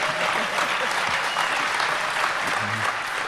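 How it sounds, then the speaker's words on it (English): Loud, steady applause from a large audience at the DEFCON 19 hacker conference panel in 2011, a dense wash of clapping that holds without a break. "don't applaud so loud"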